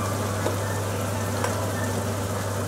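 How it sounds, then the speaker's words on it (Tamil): Onions, tomatoes and turmeric sautéed together in a pan for vatha kuzhambu, a loud, even, continuous sizzle and crackle over a steady low hum, with no speech. "தக்காளி, இது எல்லாத்தையும் ஒன்றாவே நல்லா வதக்கிக்கலாம்."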